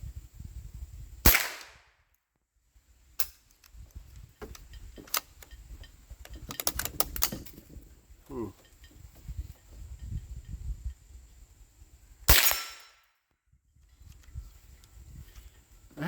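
Pistol shots ring out at a target, two sharp loud cracks spaced about eleven seconds apart, with quieter handling clicks and rustling in between and no voices.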